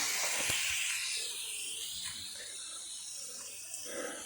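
Water runs steadily from a hose onto potted plants and soil, a soft continuous hiss and trickle close by, fairly faint, with no talking over it.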